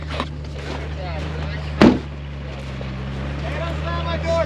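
A Jeep stuck in deep snow spins its tires in a steady low engine drone, with one brief louder burst near the middle and voices talking over it.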